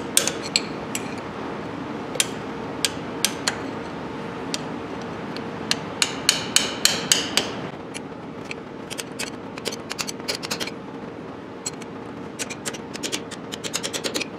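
Hammer taps bending locking tabs over an axle nut during axle and air brake assembly on a 2009 Ford F750, a scattered series of sharp metallic knocks, some in quick bursts, close by over a steady background hum.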